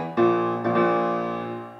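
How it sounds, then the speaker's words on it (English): A piano sounds two rich chords in quick succession from Clara Schumann's early work, with a dissonant tritone, the second ringing out and decaying, with no voices. "Clara's work sounds like this"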